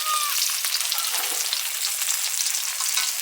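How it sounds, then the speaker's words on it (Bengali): Pieces of rohu fish fry in a pan of hot oil with a loud, busy crackling sizzle that stays steady and close, with no one speaking. "মাছ ভাজা হয়ে গেছে তুলে নিচ্ছি"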